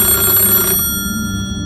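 A phone ringing in a dark, silent bedroom, its bell tone loud and close for a short burst before cutting off abruptly, leaving a low steady hum behind.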